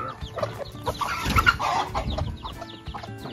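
A hen clucks in short, irregular bursts amid farmyard background noise, fairly close and moderately loud.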